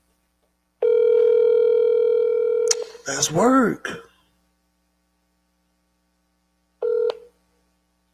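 A telephone handset plays a steady dial tone for about two seconds, then a man clears his throat and speaks briefly, followed after a pause by a short dialing beep.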